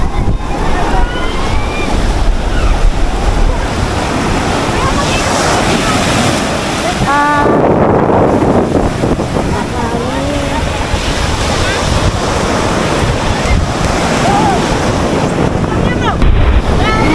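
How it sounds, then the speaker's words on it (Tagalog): Strong wind roars at a seashore and buffets the microphone continuously over crashing surf, loud and constant throughout, with voices faintly audible underneath. "lakas ng hangin."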